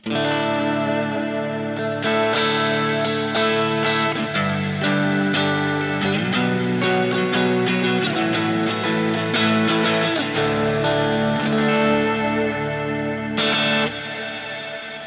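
Electric guitar through a Kemper amp profile playing chords and picked notes with distortion, chorus and reverb effects, steady and loud throughout, no voices.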